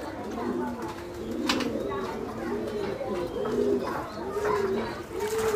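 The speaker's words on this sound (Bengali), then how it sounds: "কবুতরগুলো ফ্লাইং করার পর নেমে গেছে" Racing pigeons that have just landed at a flying loft after exercise coo in a steady, overlapping chorus of soft, throaty, rolling calls, close by.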